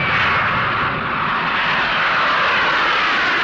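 Jet engines of an Antonov An-124 cargo aircraft roar steadily and loudly in a continuous, unbroken drone with no voices over it.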